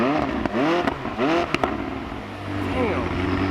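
A McLaren supercar engine with turbos barks through several sharp, loud revs in quick succession, each a rising and falling sweep, with brief pops between them and a lower idle settling in near the end; a voice speaks briefly over it.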